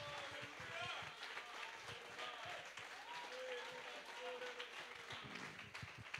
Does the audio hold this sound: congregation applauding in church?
yes